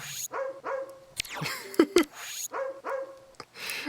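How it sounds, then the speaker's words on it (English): A cartoon dog in the Barbie Groom and Glam Pups video game for the Wii barks several times in quick, close bursts with whimpering yips between them. "You hear that bark? Let's get that bark again."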